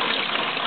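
Water from an opened hot water line in a food trailer gushes hard into a bucket, a loud, dense, continuous rush with no pauses.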